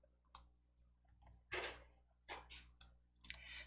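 Crisp mouse clicks sound while a shape is selected in PowerPoint, a few separate sharp clicks spaced irregularly in a quiet room.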